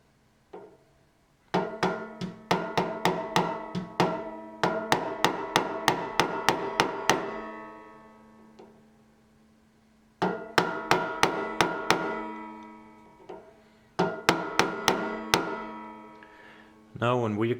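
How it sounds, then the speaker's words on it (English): Loud, sharp metallic hammer strikes driving railroad spikes into a banjo neck, in quick rhythmic bursts of about a dozen blows each, separated by brief pauses, close up with ringing decay. "And after that you can continue with the hammer."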